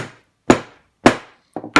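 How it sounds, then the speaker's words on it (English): A hammer taps the metal clasp of a Midori Traveler's Notebook, which is covered to avoid scratching. Three sharp, close knocks land about half a second apart, followed by a quick double tap. "So what I'm going to do is I'm going to cover this, but we're going to hammer it."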